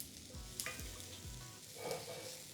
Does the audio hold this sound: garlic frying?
yes